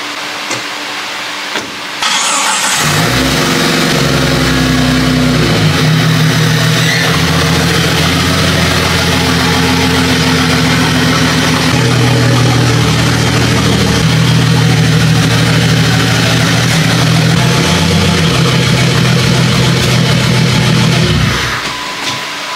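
A turbocharged Jeep Grand Cherokee engine cranks and catches after a brief quiet moment, then runs loud and close at a steady, deep idle with a faint whine on top for about twenty seconds before cutting off.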